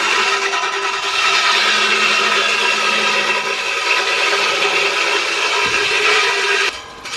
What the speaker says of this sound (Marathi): ही चिरे कापायची मशीन आहे आणि हे कटर आहे, त्याच्याने हा चिरा कापला जात आहे.